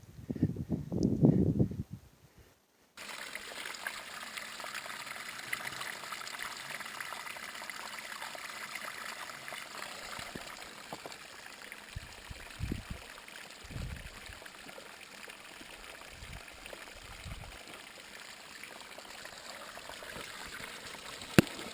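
A seasonal creek along a mountain hiking trail flows with a steady, even rush of water, close and continuous, with a few soft knocks and a short burst of handling noise at the start.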